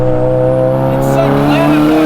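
A big-turbo Nissan S15 Silvia with an SR23 2.35-litre stroker engine being driven, its steady loud engine drone heard from inside the car while people talk over it.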